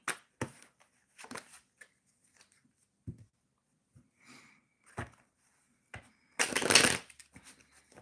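Tarot cards shuffled in several short riffling bursts, with a loud, dense riffle near the end and quiet pauses between the bursts.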